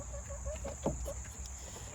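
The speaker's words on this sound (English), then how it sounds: "here comes all the nosy chickens here" Chickens and a rooster in a backyard coop make a run of short, soft clucks in a quick uneven rhythm, close by, with one sharper squawk partway through and no talking over them.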